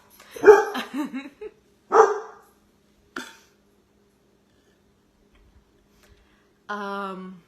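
A dog barks in short, loud bursts close by, several sharp barks grouped near the start, then a single bark after a pause, then silence, and finally a longer sustained whine or howl at the end.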